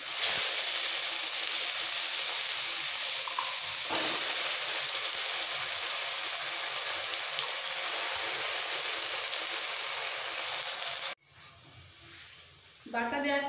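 Radish greens paste fries in hot oil with a loud, steady hiss and sizzle that continues for about eleven seconds before dropping away sharply, leaving quieter bubbling and a brief scrape.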